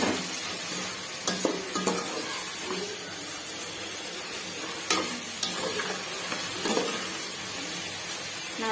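Ginger, garlic paste and tomato sizzle steadily in a hot pan for chicken biryani, with occasional spatula scrapes and stirring clatters over the constant frying hiss.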